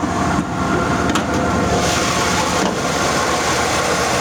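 A car with a 350 engine runs at a steady, slightly high idle, a continuous loud mechanical hum with no voices.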